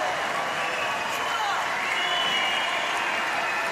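A crowd at a wheelchair men's singles para table tennis match at the Paris 2024 Paralympics, a steady wash of applause and cheering that holds at a constant level throughout, with a commentator's voice speaking over it.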